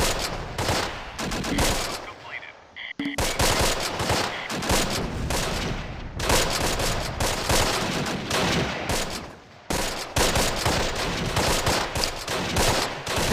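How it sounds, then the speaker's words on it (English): Rapid MG42 machine-gun bursts from the Close Combat: Last Stand Arnhem strategy game, loud and nearly continuous, with clattering volleys overlapping and only brief breaks between strings of fire. "MG42s are so good."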